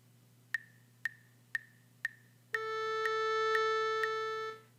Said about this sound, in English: A pitch that has a duration of 1 whole note would sound like this.